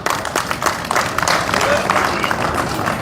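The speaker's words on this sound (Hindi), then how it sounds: "तालियां बजा दो भाई" An audience at a crowded public gathering claps in a dense, continuous round of applause, loud and close, with voices mixed into the clapping.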